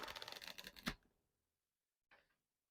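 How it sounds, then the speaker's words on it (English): A tarot card deck is riffle shuffled corner to corner, with a rapid fluttering run of card clicks ending in a sharp snap, silence, then a brief soft shuffle. "So it passes the riffle test, even though I have to riffle it corner to corner."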